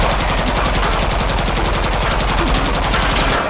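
Rapid automatic gunfire fills the Killing Floor 2 fight against Hans Volter, with dense, continuous bursts throughout and no pauses.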